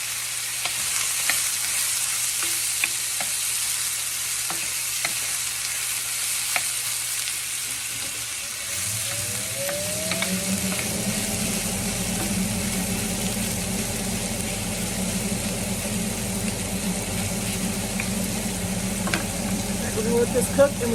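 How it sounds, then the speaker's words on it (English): Sausage fries in olive oil in a skillet, a steady close sizzle and crackle that runs the whole time, with a low hum joining partway through. "let's get this in our skillet with some olive oil"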